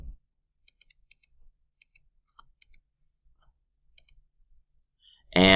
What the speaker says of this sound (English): I can click on the normal or the page layout.